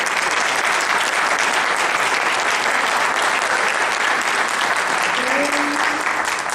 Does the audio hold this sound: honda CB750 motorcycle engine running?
no